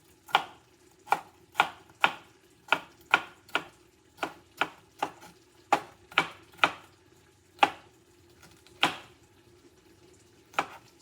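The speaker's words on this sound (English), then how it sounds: "So when you are dicing your green peppers, you want it real small like this, because it's for a chili." Knife chopping green peppers into a small dice on a cutting board for chorizo chili, a series of about twenty sharp, close taps in an uneven, steady rhythm with no talk.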